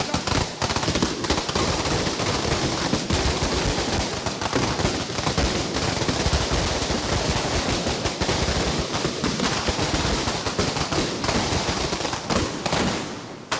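Dense, continuous crackling bursts of firecrackers thrown at a police line during a street protest, a loud chaotic barrage with a rumbling noisy background.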